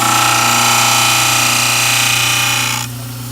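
Dental model trimmer grinding a plastic bleach tray, a loud steady whirring hum with a harsh abrasive hiss that cuts off near the end, leaving the motor spinning on alone.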